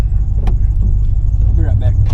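A pickup truck engine idles after catching again, a low steady rumble up close with brief clicks and small mechanical noises on top.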